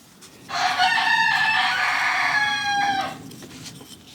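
A single loud rooster crow rings out close by for a few seconds against a quiet background.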